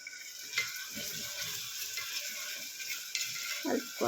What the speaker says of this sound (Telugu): ఇట్లా ఫ్రై కావాలి